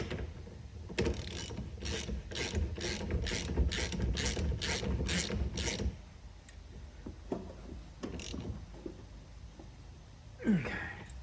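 Ratcheting wrench tightening the steering wheel bolt on a Spec Miata race car, a fast run of close, loud clicking pulses for several seconds, then a few scattered metallic clicks and handling noises.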